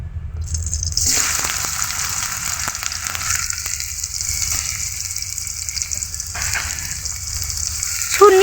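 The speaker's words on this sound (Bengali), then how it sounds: "পেঁয়াজ কুচিগুলোকে এভাবে হালকা নেড়ে চেড়ে ভেজে নেব" Chopped onions hit hot soybean oil in a wok-style pan with a loud, steady sizzle that carries on throughout, broken by occasional stirring scrapes near the end, no voices.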